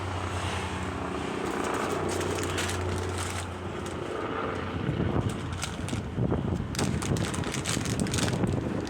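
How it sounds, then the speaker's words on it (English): A helicopter passes overhead outdoors, its broad roaring rotor and engine noise filling the air with heavy wind buffeting on the microphone. The sound is loud and steady throughout and grows rougher and more fluttering toward the end. "Whoa, chopper."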